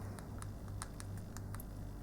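Quick, light key clicks from typing on the keyboard of a Motorola Flipout MB511 phone come in a brisk irregular rhythm, close and soft over a low background hum.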